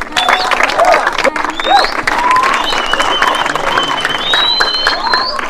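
An audience at a school award ceremony breaks into applause for a student, a dense, continuous patter of clapping mixed with raised, cheering voices.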